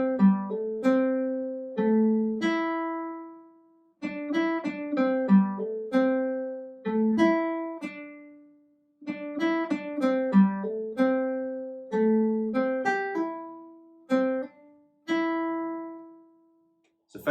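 A guitar picks an intro riff, clean single notes and short phrases ringing out with brief pauses between them, close and steady with no voice over it.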